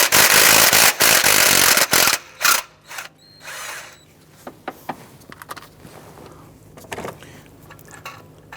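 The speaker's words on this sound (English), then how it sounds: "Using a 16mm socket, you want to loosen the bolt on the tensioner." Ratchet and socket clicks work a tensioner bolt loose on a 2011-2021 Jeep Grand Cherokee: a dense burst of loud ratcheting at first, then sparser, quieter clicks and metallic taps.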